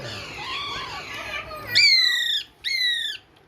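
Big Alexandrine parakeet chick of original Pakistani stock gives two loud, harsh, drawn-out squawks in quick succession after a stretch of muffled background noise.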